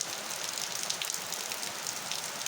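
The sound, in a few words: heavy rain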